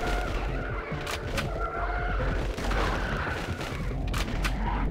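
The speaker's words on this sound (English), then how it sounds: "Two shotgun shots will take them down." Shotgun blasts in the video game D & D2 sound as sharp booming shots over a dense, rumbling game soundscape, with several distinct bangs spread through the stretch and no voice over them.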